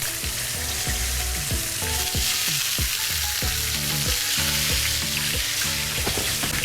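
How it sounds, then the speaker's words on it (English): Bean sprouts sizzling in sesame oil in a pan, a steady loud hiss of frying broken by repeated scraping and stirring knocks. "Sesame oil, you can throw your bean sprouts right in."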